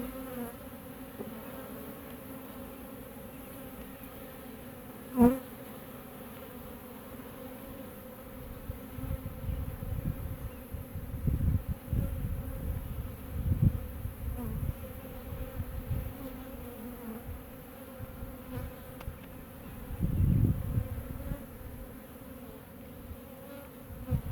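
Honeybees buzzing in an open hive during a beekeeper's inspection, a steady low drone that swells louder in waves, with one sharp knock near the start.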